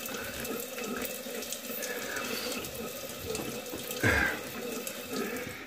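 A tap runs steadily close by while a shaving razor is rinsed under it, a continuous splashing rush of water with a brief louder gurgle near the end and no voices.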